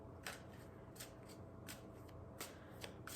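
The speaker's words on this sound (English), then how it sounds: "I'm gonna go ahead and shuffle the deck some more while I continue to look the cards over." Tarot cards shuffled by hand, heard as quiet, crisp riffling bursts that repeat roughly every half second to one second against a soft, steady background hiss, with no voices.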